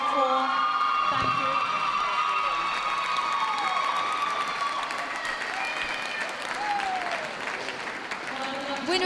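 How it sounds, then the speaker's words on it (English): Applause and crowd noise fill the ring at a dog show, a steady wash of clapping with scattered cheers and whoops. A voice carries over it throughout. "Please give them a round of applause."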